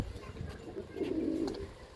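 A quality pigeon coos in a loose yard, a soft throaty low burble rising to a fuller rolling coo midway, heard up close with faint background noise.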